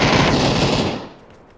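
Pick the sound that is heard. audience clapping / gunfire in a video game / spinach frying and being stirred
gunfire in a video game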